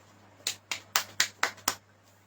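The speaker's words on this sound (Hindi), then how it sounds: "ताली बजाएंगे।" Clapping during a church service: six sharp, evenly spaced claps sound close and crisp against a quiet background, with no one talking.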